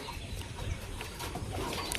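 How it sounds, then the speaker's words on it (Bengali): Pigeons land near a loft, their soft cooing and brief wing flaps heard faintly at close range over a low background murmur. "তো এই যে কবুতরগুলো সব নেমে পড়ছে,"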